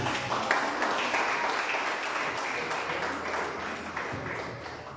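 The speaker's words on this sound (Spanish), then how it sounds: "Un aplauso para el hermano." Church congregation applauding a brother during a service, a steady wash of clapping that stays even and moderately loud before easing slightly toward the end.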